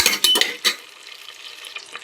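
Cinnamon and bay leaf drop into hot coconut oil for a prawn biryani, giving a few quick stirring clatters and then a soft, steady sizzle up close, with no voices.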